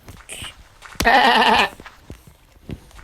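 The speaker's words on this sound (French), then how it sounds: "Ah, il y a ce mouton." A lone sheep bleats once in Minecraft, a loud wavering bleat of about half a second, with faint game background sounds and light clicks around it.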